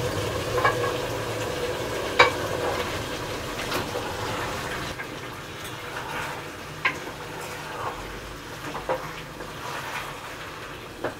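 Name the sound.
stirring beef head meat with spices in a pan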